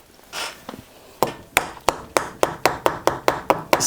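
A hammer taps a seal into place on a broken-down truck engine with a blown head gasket, a few light knocks followed by a steady run of about ten sharp, evenly spaced metallic strikes, close and clear.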